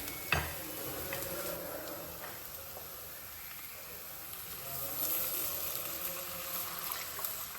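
Curry leaves sautéing in oil in a pan give a soft, steady sizzle with a few light scraping stirs, fairly quiet and unbroken, with no talk.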